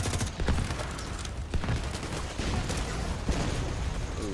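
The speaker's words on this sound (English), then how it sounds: "Ooh, somebody hit the fireworks" Fireworks in the video game The Division 2 go off as a dense, continuous crackle of rapid pops and bangs with a few louder booms, steady and moderately loud throughout.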